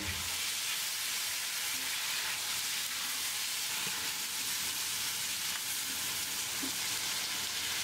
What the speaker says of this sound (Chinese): 炒出香味后，加入木耳和蒜苔进去翻炒。